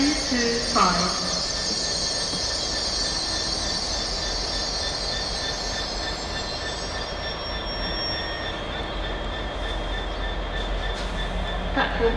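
A train stands at a platform at Doncaster station: a steady, loud rumble of engine and rail noise with high wheel or brake squeals, while a station announcement voice is heard faintly over it.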